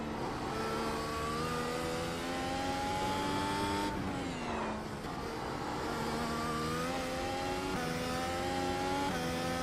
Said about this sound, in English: apply a medium brake as you navigate through